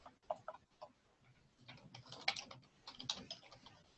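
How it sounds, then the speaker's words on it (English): Keys on a computer keyboard tap in short irregular bursts as a name is entered into a database search field, faint and close, with scattered clicks and quiet pauses. "By typing Emory, it still finds a center"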